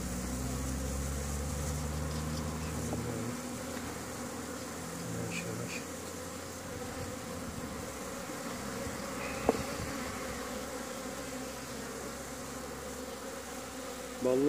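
Honey bees buzz steadily and loudly throughout a hive inspection, a dense continuous drone close to the open hive with occasional brief clicks of frames being handled, and no talking.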